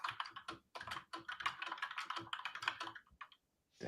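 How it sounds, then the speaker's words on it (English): Fingers tap rapidly on a computer keyboard close by, a dense run of clicky keystrokes with brief pauses, ending in a short gap and a final few taps. "I'm typing"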